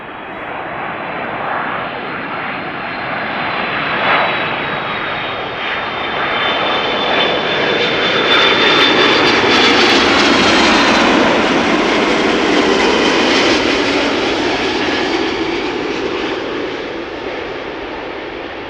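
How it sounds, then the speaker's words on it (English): A Delta Airlines Airbus A330-300 jet arriving at Amsterdam Schiphol, its engines roaring loud and rising to a peak as it passes, then slowly fading, with no talk. "Delta Airlines flight 74. Next up, A330-300."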